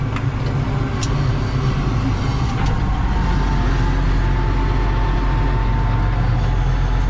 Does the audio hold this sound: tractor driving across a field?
yes